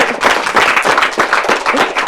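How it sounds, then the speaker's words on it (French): Studio audience applauding a TV show presenter, dense steady clapping filling the room throughout, loud and close with no talk over it. "elle mérite des encouragements, des applaudissements"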